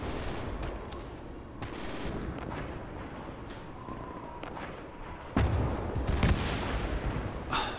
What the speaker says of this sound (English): that artillery you got back there